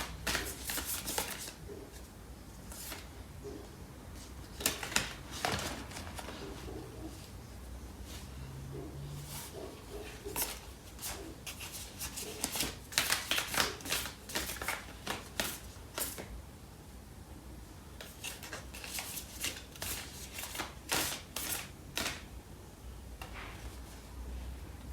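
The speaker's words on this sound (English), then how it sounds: "I'm gonna pull out a card for the overall reading." A deck of tarot cards is shuffled and drawn for a reading, bursts of close riffling and flicking that come and go over a long stretch, with a few soft taps between them and no speech.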